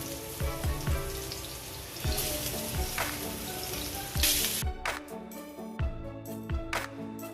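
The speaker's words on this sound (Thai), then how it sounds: "ใส่กระเทียม ลงไป คั่วในน้ำมันครับ ใส่หมูลงไปด้วยครับ" Garlic and pork frying in hot oil in a wok, with loud, continuous sizzling, crackles and repeated scraping stir strokes close up.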